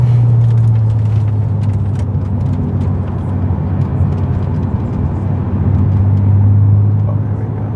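A 600hp MercRacing MRA1900 car drives with a loud, steady low engine drone and road roar that swells near the start and end, close to the listener, with faint rattles on top.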